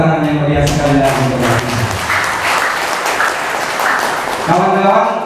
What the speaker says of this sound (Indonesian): kita berikan tepuk tangan yang meriah sekali lagi